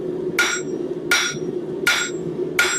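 A hammer strikes hot steel at the edge of an anvil while starting a taper at a blacksmith's forge, four sharp ringing blows evenly spaced about 0.7 seconds apart, close and loud with no speech.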